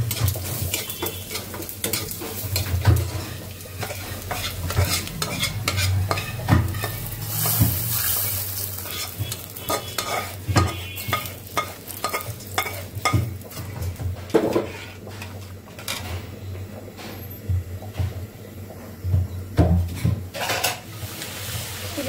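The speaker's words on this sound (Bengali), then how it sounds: "পাঁচফোড়ন দিয়ে দিলাম আমি ডালে।" Panch phoron five-spice hits hot dal with a sizzle as a spoon scrapes and clinks against the pot in busy, irregular stirring strokes, close and loud, without any talking.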